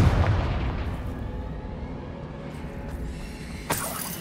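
A Confringo blasting spell goes off in Hogwarts Legacy with a loud opening boom that rumbles away. A sharper burst hits near the end.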